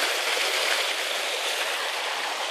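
Steady rushing water flows continuously, a constant hiss of a stream with no pauses or voices.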